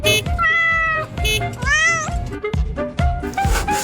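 A cartoon cat waking to an alarm clock meows several times, clear and close, with drawn-out, rising and falling calls and short bursts of clatter between them.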